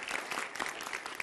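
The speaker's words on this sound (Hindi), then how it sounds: "तालियों के साथ स्वागत कीजिए" Brief, quiet burst of studio audience clapping greeting a guest on a Hindi political debate show, soft and continuous for about a second.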